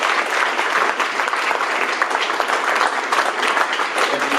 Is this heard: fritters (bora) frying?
no